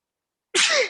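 A single sharp sneeze bursts out after a second of silence, loud and close, with a brief rising nasal tail.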